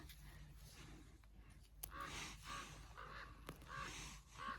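A few harsh caws from a crow or raven, somewhat distant, repeated at irregular intervals over a steady outdoor background hiss in a Finnish forest.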